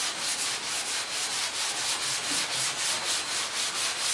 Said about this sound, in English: you won't sand it right. That's why you need sharp sandpaper